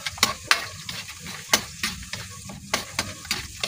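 Food frying in a hot pan, a steady sizzle broken by repeated sharp clanks and scrapes of a utensil stirring, loud and close with no voices.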